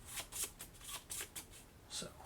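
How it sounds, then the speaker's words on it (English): A deck of game cards for the board game Aeon Trespass: Odyssey is shuffled in several quick crisp riffling bursts separated by short pauses, close and clear with no talking. "Go ahead and shuffle to escalate this."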